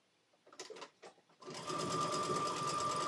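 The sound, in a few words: sewing machine stitching the last piece of fabric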